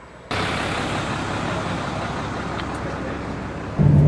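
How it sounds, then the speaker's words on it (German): A bus engine runs steadily at close range, a broad loud rumble that swells a little louder near the end as it pulls away, on the way to the Tongariro Alpine Crossing in New Zealand. "jetzt geht auch gleich der Bus los"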